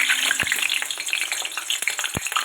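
Potatoes fry in hot oil in a pan, a dense, close crackling sizzle running throughout with a couple of sharp pops.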